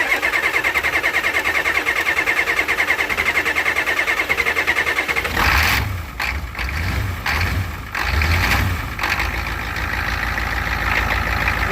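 The engine of a 1988 Ford truck cranks steadily and then catches, settling into a rough, uneven run with a few throttle surges, loud and close with no talking.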